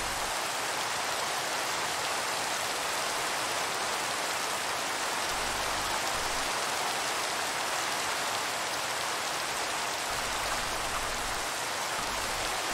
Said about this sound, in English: I've had enough of rain